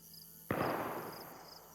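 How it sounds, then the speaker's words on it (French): A single close gunshot rings out in the DayZ survival game on the Livonia map, a sharp crack followed by a long rolling echo that fades over about a second. "Ok, ça tire à ma droite,"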